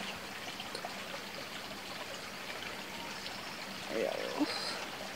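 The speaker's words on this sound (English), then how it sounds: "A nice little stream so we can collect some water." A small stream flows steadily in an outdoor field, a soft continuous trickling wash with a few brief louder splashes near the end.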